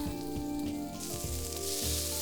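Food sizzles steadily on an oiled flat-top teppanyaki griddle while Japanese rice, seafood and fish are cooked, a close, soft, continuous frying hiss with faint scraping tones and no talking.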